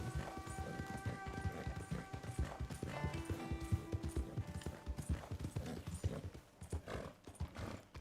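Rhythmic hoofbeats clop steadily nearby while a horse whinnies and snorts in the video game Red Dead Redemption 2, the trotting continuing throughout without any talking.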